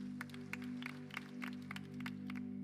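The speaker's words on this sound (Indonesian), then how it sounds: "Yang setuju kasih tepuk tangan buat Tuhan" Scattered clapping from a church congregation during a sermon, sparse uneven hand claps rising over a low steady hum, faint and somewhat distant, with no talking.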